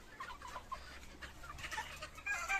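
Free-range chickens cluck softly while foraging on green grass, several short clucks scattered close by against quiet outdoor background.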